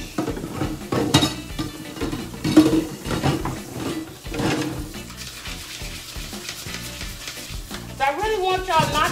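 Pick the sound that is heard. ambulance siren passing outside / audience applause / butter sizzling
butter sizzling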